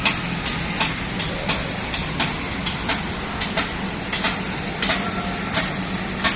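A train runs along the rail access beside Jakarta International Stadium, with a steady rumbling roar and evenly spaced clickety-clack wheel beats from a close, loud passing consist.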